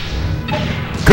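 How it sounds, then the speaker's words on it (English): Cruise missile impact in Megaman Legends 2, a sharp loud crack and burst arriving at the very end after a short stretch of game rumble and swishing effects. "Cruise missile."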